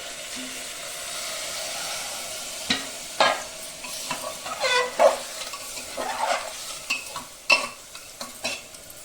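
Water is poured into fried spice masala in a pan while making mutton curry in a pressure cooker. A steady sizzle and hiss runs throughout, broken by sharp clinks and scrapes of stirring.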